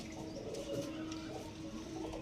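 Kalshira pigeon chicks give soft, low cooing, faint and continuous over a quiet background hum.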